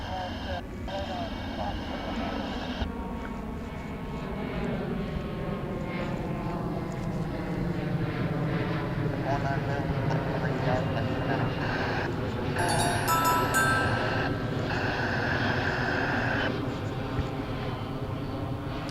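An American Airlines jet, Flight 1098 from Kansas City, goes around at foggy DFW International Airport. Its loud, sustained engine roar carries shifting whining tones that swell as it passes, and people talk over it.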